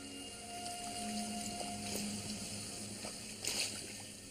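Spring water runs through a curving channel and spills into a garden pool below a lily pond, giving a steady, close trickling and splashing with soft gurgles that swell briefly near the end.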